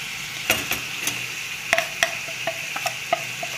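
Spices sizzle in hot oil for an egg curry while a utensil scrapes and taps the pan in irregular clicks, a steady close frying hiss underneath.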